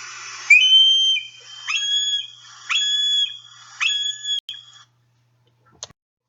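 Several high, thin squealing calls from a juvenile hawk come in short bursts, each a brief whistled cry with pauses between, fading out near the end.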